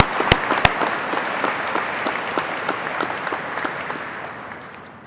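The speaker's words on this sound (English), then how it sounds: "Let's give them a round of applause." An audience applauds at a State of Nebraska World War II veteran recognition ceremony: loud, sustained clapping from a crowd with a few sharp close claps at the start, gradually fading toward the end.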